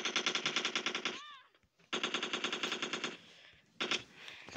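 Fast automatic gunfire in a shooting video game, three loud bursts of evenly spaced rapid shots separated by short pauses, the last burst brief.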